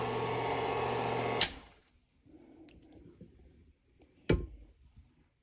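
An electric stand mixer with a beater attachment working thick, sticky cookie dough, a steady whirring motor hum that cuts off after about a second and a half, then faint clicks and scraping in the quiet.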